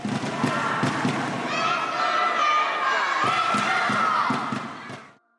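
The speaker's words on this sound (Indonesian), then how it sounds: "Sorak-sorai supporter Belva yang amat meriah pun terus menyemangati Belva agar bisa merebut kemenangan" Supporters cheer loudly and steadily at a competition final, a dense crowd roar with scattered thumps and claps throughout, then it fades out quickly at the end.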